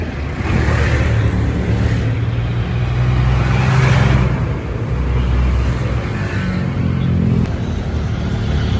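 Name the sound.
road traffic, cars passing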